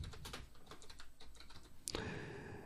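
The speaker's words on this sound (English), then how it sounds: "I'll just go ahead and type that back in again." Close, rapid typing on a computer keyboard, a steady run of light clicking keystrokes ending in a louder clack followed by a brief hiss of noise.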